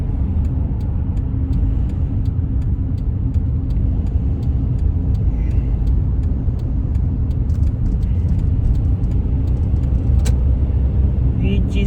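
Steady low rumble of a car creeping through dense rush-hour traffic, engine and road noise continuous for the whole stretch, with someone talking at times over it.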